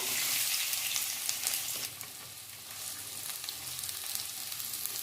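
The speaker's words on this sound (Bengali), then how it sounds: "এবারে পেঁয়াজ কুচিগুলো দিয়ে দিচ্ছি।" Chopped onions sizzling and frying in hot oil with whole garam masala, a steady hiss of fairly quiet frying heard up close with a faint stir.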